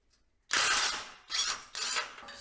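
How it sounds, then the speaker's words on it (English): A ratchet with a 22 socket, paired with a 21 wrench, turns the spring bolts on a Harbor Freight trailer, giving three loud close bursts of fast clicking separated by short pauses. "We've got a 21 wrench and a 22 socket."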